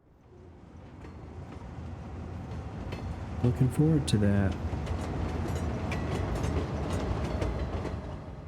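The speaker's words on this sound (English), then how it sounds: "Here comes a train. Really nice cargo train." A cargo train rolls past in the city-building game Cities Skylines 2, a steady rumble growing louder with rail clatter, while someone talks over it.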